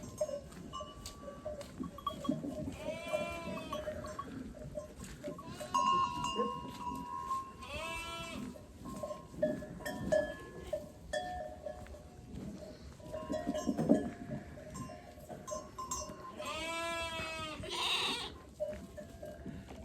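Sheep bleat in a barn during lambing, several wavering calls scattered at intervals over a quiet, low barn murmur, fairly close and moderately loud.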